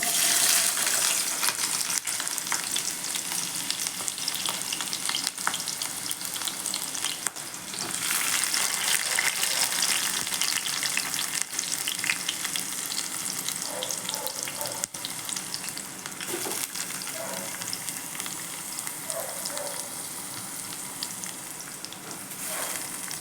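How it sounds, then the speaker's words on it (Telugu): Chopped onion fries in hot oil for a soya chunk curry, a dense, continuous close sizzle that holds for over twenty seconds with occasional stirring and crackles. No one speaks. "ఇలా ఆయిల్ వేడెక్కిన తర్వాత ముందుగా కట్ చేసి పెట్టుకున్న ఆనియన్"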